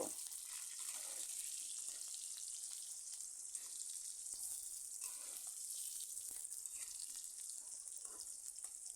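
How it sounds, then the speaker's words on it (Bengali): Potatoes frying in a pan make a steady, even sizzle that runs the whole time, fairly soft, with no one talking. "এভাবে আমি আলু দুই তিন মিনিট ভেজে নেব"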